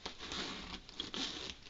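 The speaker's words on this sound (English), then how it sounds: "It zips up fine." A zipper on a Carhartt coat slides up in a quick, quiet rasp, close by and brief, with soft fabric rustling around it.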